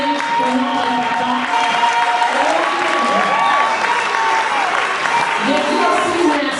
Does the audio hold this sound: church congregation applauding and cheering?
yes